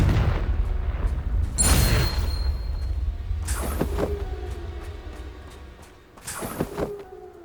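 Confringo spell explosions in the Hogwarts Legacy video game go off as three booming blasts, each followed by a rumbling tail, spaced a couple of seconds apart over a low background.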